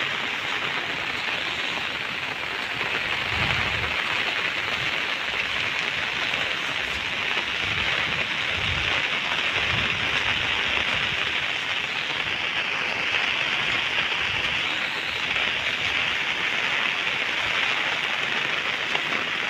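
Heavy rain pours down in a steady, dense hiss for the whole stretch, loud and close, with a few faint low thumps underneath.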